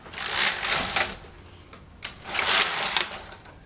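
Passap knitting machine carriage sliding across to knit rows, two long rasping, clattering sweeps close by, each swelling and fading, separated by a brief lull.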